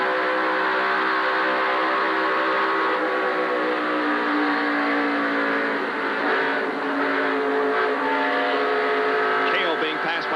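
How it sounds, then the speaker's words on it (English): Stock cars race at the 1988 Champion Spark Plug 400, a steady loud roar of engines with cars passing close by, under continuous commentary. "Davey Allison passes Cale Yarborough on the high side of the racetrack"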